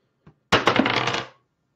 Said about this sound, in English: So let's roll the dice.